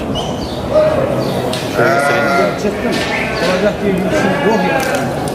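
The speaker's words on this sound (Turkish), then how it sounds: "arkadaşlar koyunlar bunlar" Several sheep bleat close by at a livestock market in Çorum, Turkey, overlapping wavering cries repeating every second or so, with people talking in the background.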